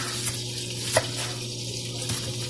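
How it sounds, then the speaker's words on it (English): Butter sizzles in a pan while cooking a Crock-Pot pot roast with gravy, a steady close crackling hiss with a few louder pops and spatters. "Probably can hear my butter."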